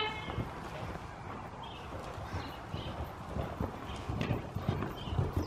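A pony's hooves trot in a steady two-beat rhythm on soft ground, fairly close, with faint background noise and an occasional distant call.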